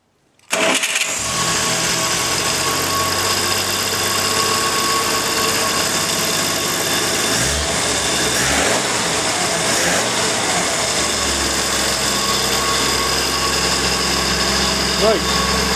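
A WW2 six-wheel jeep engine cranks and catches, then settles into a steady, loud idle that runs on without a break, with a few faint bumps and knocks partway through.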